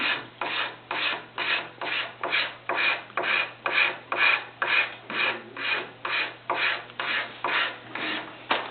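A hand scraper works along a wooden chair leg in steady rasping strokes, about two per second, each a broad scratchy swipe of similar loudness, close and alone with no talk.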